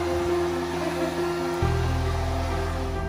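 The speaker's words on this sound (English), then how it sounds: "My crappy hair dryer." A hair dryer blows with a steady whirring hum, stepping up to a louder, lower-pitched roar partway through, with no talking.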